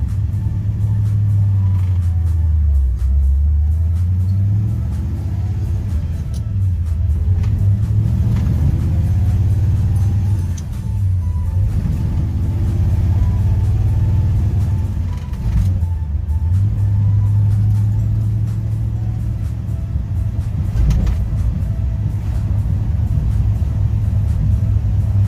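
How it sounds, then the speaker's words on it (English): A 1955 Chevy Bel Air with a 502 engine and four-speed stick shift, heard from inside on a drive: a loud, deep engine rumble rising and falling through repeated revs and gear changes. "we're sitting inside this Bel Air. Gonna go ahead and take it for a little test drive"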